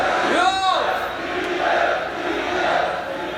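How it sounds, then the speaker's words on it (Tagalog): A crowd roars and cheers at a Royal Rumble rap battle, a dense sustained wave of voices with a high whistle cutting through early on. "Ang lakas ng crowd."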